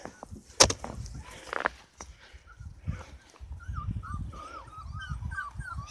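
Puppies whine and whimper during a night feeding in falling snow, with high, wavering cries that rise and fall in quick succession. A few louder yips and some rustling come near the start.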